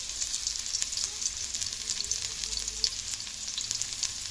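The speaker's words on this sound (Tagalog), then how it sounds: "Ang bawang nagisa ko na." Garlic sautéing in a hot pan for a ginisang monggo with sardines, a steady close sizzle with faint crackles and no talking.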